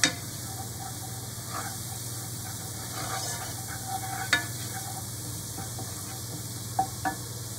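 Food with a spoonful of curry powder sizzles steadily in a pan as a utensil stirs it, giving occasional scraping clicks over a constant low hum.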